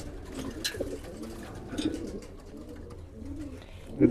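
Racing pigeons coo softly and steadily nearby, low murmuring calls overlapping one another, with no talking.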